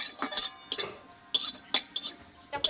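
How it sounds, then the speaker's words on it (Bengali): A dry roast is stirred in a kadai, with a metal spoon scraping and clinking against the pan in short, irregular bursts, close and fairly crisp. "দেখো একদম 30 সেকেন্ড মতো একটু আমি নাড়িয়ে নেবো"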